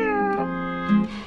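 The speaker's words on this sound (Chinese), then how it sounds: "我养了只小猫，" A very small kitten gives a couple of clear, close, high-pitched meows, loud and alone with no talking.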